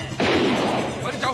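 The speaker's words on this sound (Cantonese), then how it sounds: "好似槍聲嚟嘅喎" Gunfire in a film, a loud burst of close shots and crashing impact that fills most of the moment, ending with a final sharp report.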